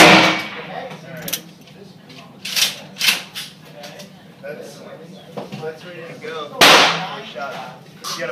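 Gunshots from .44 Magnum brass cartridges loaded with the same load, fired left-handed at an outdoor range: a few sharp, loud reports stand out among background noise and voices.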